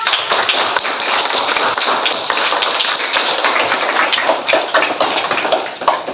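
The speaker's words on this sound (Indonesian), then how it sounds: "berikan dulu aplaus" Classroom applause during an Akidah Akhlak lesson, a dense steady patter of many hands clapping together, fairly loud and continuous throughout with no talk over it.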